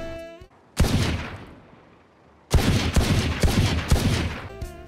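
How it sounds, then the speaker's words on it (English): Burst fire from a Halo Infinite pistol: two rapid clusters of loud, sharp shots separated by a short pause, close and dry with no voices. "All pistols are capable of burst fire."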